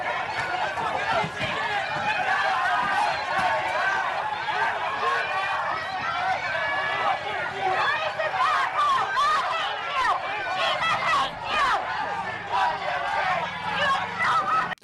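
Dense, loud crowd din from a chaotic street scene: overlapping shouts and chatter from many people, continuous and close, with no single voice standing out.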